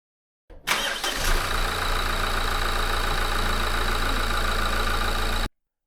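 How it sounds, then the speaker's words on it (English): Renault Koleos 2.0 dCi diesel engine cranking briefly, then catching and settling into a steady, even idle that runs close and unbroken until it abruptly cuts off. "then started the engine and let it run for about 3 minutes"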